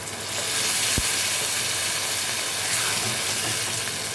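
Raw tomatoes frying in a pan sizzle steadily and loudly as a little water is added, a sharp hiss rising and then holding as a continuous close sizzle with no talk.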